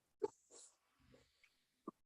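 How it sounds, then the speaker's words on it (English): A dog barks a few short, sharp times in a quiet room, with isolated yaps spread out between pauses and a faint low rumble in the middle. "No, that's the dog barking, David."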